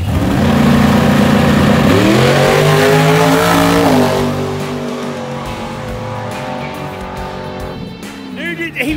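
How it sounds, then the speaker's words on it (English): Camaro at a Benton Speedway no-prep drag race, engine loud and close with a rising rev and shifting pitch through the first seconds, then a steadier drone with crowd voices talking and cheering over it. "It's such a sweet Camaro, man."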